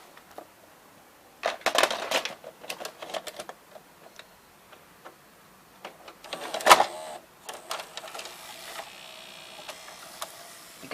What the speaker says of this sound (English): So now let's insert a tape.